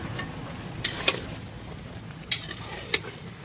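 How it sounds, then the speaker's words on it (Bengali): Spiced chicken gravy with cumin, chilli, turmeric and coriander frying in a pan, a soft steady sizzle broken by several sharp scraping knocks as a spoon stirs it, close and fairly quiet. "লবণ সব কিছু দিয়ে এখন আবার ভালো করে কষছি।"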